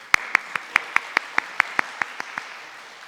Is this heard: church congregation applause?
yes